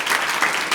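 Brief burst of steady clapping from a group of schoolchildren, cheering a student named Kartik.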